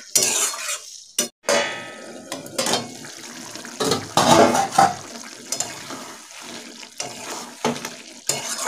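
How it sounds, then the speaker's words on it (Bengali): Water is poured into a pan of spiced bitter gourd being cooked down, with intermittent splashes, spoon scrapes and clinks against the pan in short bursts, nearby and without speech. "এবার আমি একটু জল দিয়ে দেবো। দিয়ে দিলাম জল।"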